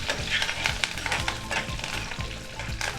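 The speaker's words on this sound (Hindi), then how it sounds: "और इसको अब हम अच्छी तरह से मिक्स कर देंगे।" Oil sizzles and crackles steadily in a hot pan while a spoon scrapes and stirs mustard seeds and spices for sambar tempering, with no voices.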